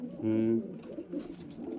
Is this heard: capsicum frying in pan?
no